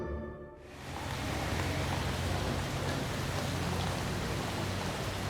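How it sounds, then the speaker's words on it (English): Rain begins after a brief quiet moment and settles into a steady, dense hiss of drops falling on surfaces. "It starts to rain"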